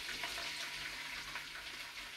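Beaten egg poured into a pan for an omelette, a steady soft hissing sizzle of liquid hitting the hot surface, continuous and moderately quiet with no talking.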